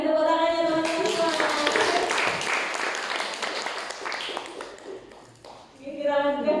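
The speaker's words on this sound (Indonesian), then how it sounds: "Sekali lagi tepuk tangannya teman-teman" Seminar attendees at a government employee orientation in Surakarta clap together after a presentation, a dense round of hand claps that swells and then fades, with a voice speaking just before and as it dies away.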